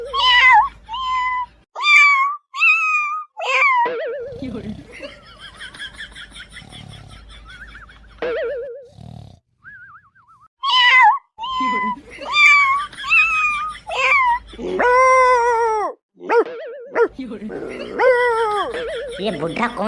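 A cat meows repeatedly in short, wavering cries that come in clustered bursts with brief gaps, close and fairly loud; the calls may be a voice imitating a cat.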